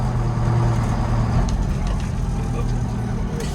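Detroit 8V71 two-stroke diesel truck with a 13-speed transmission pulling along in fourth gear, a loud steady engine drone with a low droning tone and some rattle, no pauses or gear change heard.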